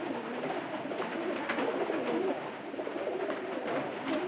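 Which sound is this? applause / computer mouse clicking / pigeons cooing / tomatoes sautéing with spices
pigeons cooing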